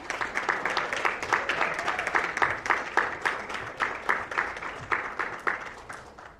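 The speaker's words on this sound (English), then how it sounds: "let's give our high school folks a round of applause as they head back" An audience at a school geography bee gives the high school team a round of applause as they leave, a moderately loud crowd clapping with a loosely rhythmic, pulsing pattern that tapers toward the end.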